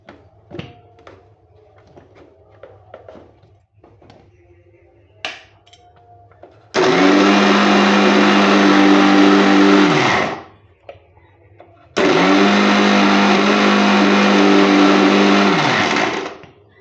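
Chopped onion and two green chillies ground in a kitchen mixer, two loud whirring bursts of about four seconds each separated by a brief pause, with quiet handling clatter before the first run.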